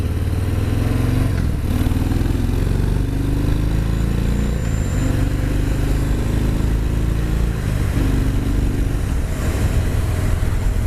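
A Harley-Davidson Fat Bob 114 motorcycle engine runs steadily and loudly on a demo ride, a deep rumbling drone with slight pitch swells as the throttle varies, continuous throughout with no talking.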